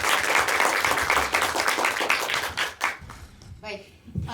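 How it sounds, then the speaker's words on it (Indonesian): Audience applause for the speakers at an ideafest 2025 talk session, a dense run of clapping that fades out after about three seconds as a voice begins. "Kita beri tepuk tangan dulu buat pembicara kita sore hari ini."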